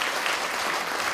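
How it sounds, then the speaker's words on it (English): Audience applause at a lecture on Chinese foreign policy and China–ASEAN relations at the Chinese University of Hong Kong; dense, loud, steady clapping from a full room, heard alone. "I would like to invite all to give another round of applause to Ambassador Zhang"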